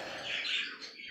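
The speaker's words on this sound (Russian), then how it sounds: "Так, волнистые мои попугайчики." A flock of pet budgerigars chatters in a steady, soft stream of overlapping chirps and twitters, fairly quiet and continuous, with no talking.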